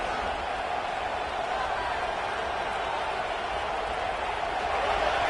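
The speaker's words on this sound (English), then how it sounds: "This crowd trying to make life miserable for this offense." Crowd noise at a college football stadium during South Carolina versus Georgia, a steady, dense roar held at an even level throughout, with no single voice standing out.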